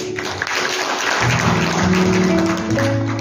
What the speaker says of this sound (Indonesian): Boleh berikan tepuk tangan.